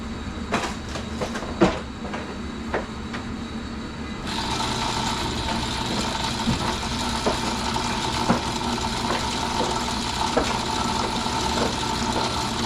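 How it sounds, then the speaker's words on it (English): Electric fuel pump switched on to drain fuel from the tank of a Mercedes 220: a quiet start with scattered clicks, then a steady mechanical whir and hum that runs on continuously with occasional ticks. "let's hit that switch in the under the dash and see if this pumps the fuel out"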